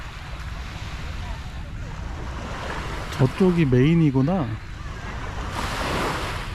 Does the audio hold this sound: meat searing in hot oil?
no